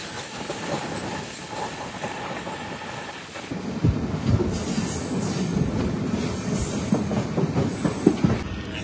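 Prashanti Express train passing near Kadiyam railway station, a steady rumble that grows louder partway through with rhythmic wheel clatter and high metallic squeal from the rails, close and continuous without talk.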